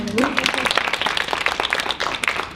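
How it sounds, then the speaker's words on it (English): An audience at a literary review's unveiling party gives a round of applause for a writer, moderately loud scattered clapping that runs throughout, with a voice briefly audible near the start. "give her a round of applause"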